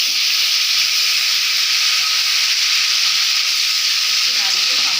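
Tomato pieces dropped into hot oil with black cumin, alongside a mustard-poppy paste, sizzle in a steady, loud, continuous hiss that runs unbroken throughout, close up with no talking.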